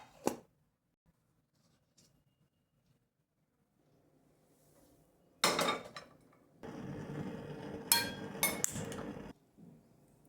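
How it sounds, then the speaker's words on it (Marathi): Horse gram is dry-roasted in a kadhai over a low gas flame. After a quiet stretch come close bursts of rattling and scraping as the grains are stirred, with a few sharp metallic clinks. "मंद गॅसवर कढईवर हे हुलगे भाजून घेऊया."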